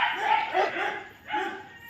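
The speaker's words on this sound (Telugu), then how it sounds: "డాగ్స్ అన్నీ మొత్తుకుంటున్నాయి లోపల" Several dogs bark inside a kennel, a few loud overlapping barks and yips in short bursts, fairly close, with no talk.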